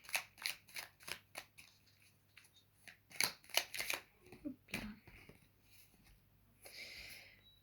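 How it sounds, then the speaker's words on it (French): Cards are shuffled and drawn for a tarot-style reading, a series of quick soft riffling flicks and slaps close by, then quieter handling and a light sliding rustle, faint overall with no talking. "vais vous tirer encore quelques cartes"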